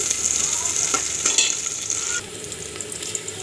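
Sliced onion and cumin seeds sizzling in hot oil in a pan for a simple ridge gourd and chana dal curry, a steady bright hiss with a few stirring scrapes, softening partway through.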